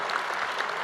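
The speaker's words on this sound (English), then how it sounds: "You deserved a round of applause." Brief, dense applause from a conference audience at an opening ceremony, with many hands clapping in a steady wash for under a second.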